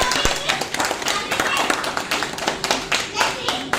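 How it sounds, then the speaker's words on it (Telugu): Hands clap steadily from a small group at a wedding anniversary celebration with an engagement ritual, a dense, close patter of claps running throughout under a lively room. "claps claps"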